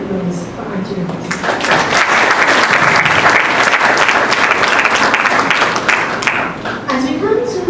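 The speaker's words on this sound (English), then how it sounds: "Please join me for another round of applause for Auntie Rupati" Loud, full round of applause from a crowd at a Hanuman Jayanti temple celebration, swelling quickly and holding steady for several seconds, with a voice briefly audible at the start and end.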